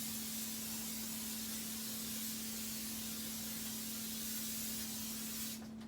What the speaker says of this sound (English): But I do olive oil pan with spray.